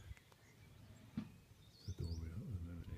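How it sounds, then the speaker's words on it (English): Faint birdsong in the grounds of a 13th-century fortified manor house, with a couple of short chirps rising above quiet outdoor ambience as a person starts speaking. "Probably hear the birdsong."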